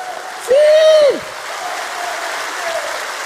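A church congregation applauds as a steady, moderately loud wash of clapping. Early on, a short whistle-like tone rises and falls over it.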